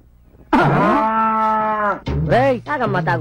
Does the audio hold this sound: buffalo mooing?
yes